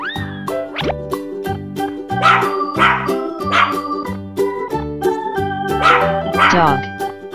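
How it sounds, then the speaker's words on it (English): A dog barks in a farm nursery rhyme song, several short yips set against bouncy music and singing. "Dog."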